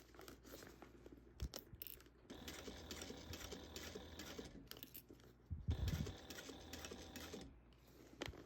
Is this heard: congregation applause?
no